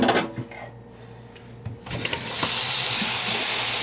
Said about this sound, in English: I'm gonna rinse off my spoon